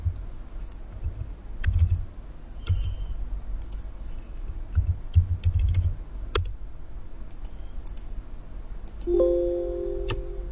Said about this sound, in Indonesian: Kita ketik lagi di sini.